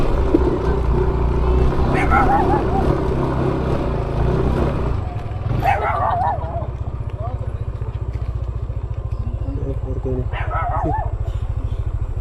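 A motorcycle engine chugs steadily under load climbing a hill, low and close, with brief voices calling out over it.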